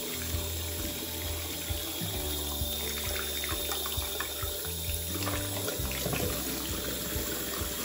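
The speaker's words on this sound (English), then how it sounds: "Now you're gonna rinse until most of the bubbles come out." Tap water runs steadily into a sink while a pet water bottle is rinsed of soap bubbles, a continuous splashing flow with shifting gurgles and sloshes, close by and with no talking.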